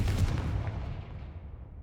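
A Confringo fire spell explodes in Hogwarts Legacy as a loud, deep boom that rumbles and fades away over about two seconds.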